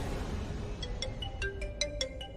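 A phone ringtone chirps in short repeated electronic tones at moderate level, indoors in a Hindi TV drama scene, over a faint background hum with no talking.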